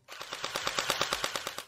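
A gel blaster firing in full auto mode lets off a rapid, evenly spaced burst of about a dozen sharp snapping shots, close and crisp, with no talking.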